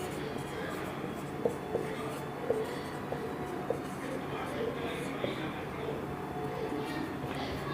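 Chalk or marker strokes form an equation on a classroom board during a math lesson, producing faint, scratchy taps at irregular intervals over a steady background hum, with a voice faintly present.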